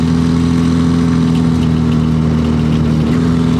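BMW E30 with no exhaust fitted, its engine running loud and steady as the car drives, a constant deep hum carrying strong low tones throughout with no speech over it.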